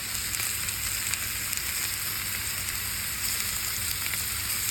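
Steaks fry in a hot pan, giving a steady, close sizzling hiss with small crackles and pops throughout, fairly quiet and with no talking.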